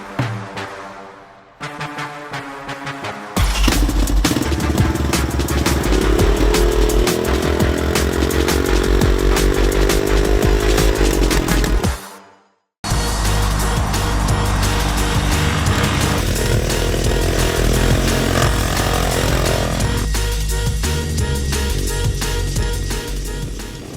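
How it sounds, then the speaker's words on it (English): A Honda 192cc air-cooled single-cylinder four-stroke engine of about 14 to 15 horsepower runs loud and close, a steady buzzing drone with rising revs, cutting out briefly midway before firing back up and holding a strong, gritty roar to the end. "This one specifically has 192 cc's, air-cooled 4-stroke 1-cylinder engine, producing about 14 to 15 horsepower"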